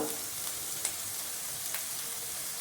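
Curry leaves fry in hot oil for a rustic onion chutney, a steady close crackling sizzle with a few sharper pops.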